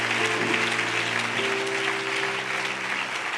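A church congregation applauds steadily throughout after a scripture reading, dense sustained clapping with a low held organ or keyboard note underneath.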